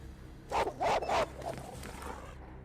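A dog barking in the Fallout 2 video game, three quick close barks in a row, followed by quieter softer yips, over faint game background hum.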